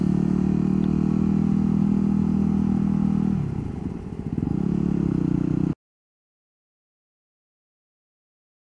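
A Husqvarna 450 supermoto motorcycle rides on twisty roads with a steady, loud engine drone and wind rumble, easing briefly mid-clip before the sound cuts off abruptly into silence.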